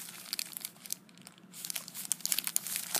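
Panini FIFA 365 card packets crinkling and tearing as they are opened, close and fairly quiet, with irregular bursts of plastic crackling and a brief pause midway.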